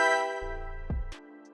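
A sustained electric keyboard chord from the Electra X Key Maestro preset in a drill-reggaeton beat rings with a soft reverb tail, a low note entering underneath, then a brief click near the end.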